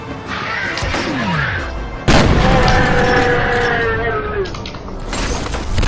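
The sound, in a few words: gunfire in F.E.A.R. video game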